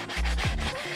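A rough hand-carved wooden bowl is sanded with a sponge sanding block, a few close, rhythmic scratchy strokes that rub back and forth with no voices.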